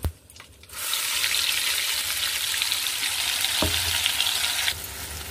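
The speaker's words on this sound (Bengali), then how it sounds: "মশলাটা আমি কড়াইয়ের মধ্যে দিয়ে দিয়েছি, দিয়ে আমি ভালো করে একটু কষিয়ে নেব" Spice paste of onion, mustard and poppy seed frying in a wok (kadai), a loud steady sizzle starting abruptly after a brief clatter, with a single spoon knock partway through.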